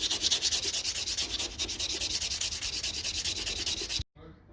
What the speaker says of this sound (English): when it feels flat, then it's time to sand it with 300